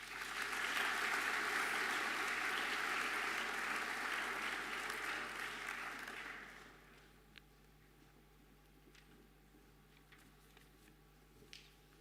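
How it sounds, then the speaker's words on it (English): A school sports awards audience claps loudly and steadily for about six seconds, then the applause fades quickly to a quiet room with a few scattered claps. "A round of applause."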